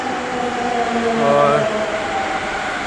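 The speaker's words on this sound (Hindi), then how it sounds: "मेट्रो का वेट कर रहा हूँ अभी।" A metro train at a metro station gives a loud, rising tonal whine over a steady rumble. A brief spoken word sounds near the start.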